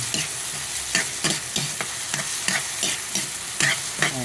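Tomatoes softening in a simmering soup pot, stirred with a utensil that scrapes and knocks in a regular rhythm about every half second over a low, steady bubbling sizzle, close up and with no voices.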